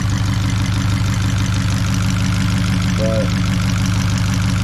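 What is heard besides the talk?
Fiat 500 Abarth engine idling cold with new turbo and cam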